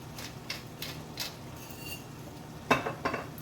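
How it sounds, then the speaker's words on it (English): A spoon scrapes and clinks in a pot of meat mixture for a beef and potato bake, with a run of soft rhythmic stirring strokes followed by a couple of louder metallic knocks, no voices. "Give that a stir."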